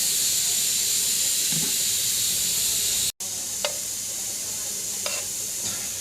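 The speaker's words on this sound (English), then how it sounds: "So the bubbles have appeared. So it's time to flip the pancake." Chocolate eggless pancake batter sizzling and steaming steadily on a pan over medium flame, with a brief cut midway followed by a few light scraping, stirring touches of a spatula during flipping.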